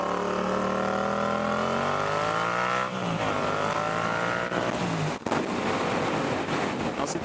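A motorcycle fitted with a cheap AliExpress exhaust and header pipe revs loudly and continuously, its pitch climbing and dropping through sustained throttle, with a sharp crackle partway through.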